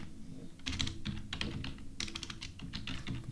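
Rapid, close computer keyboard typing as a heading is entered in the WordPress block editor, with quick bursts of keystrokes separated by short pauses and no talking.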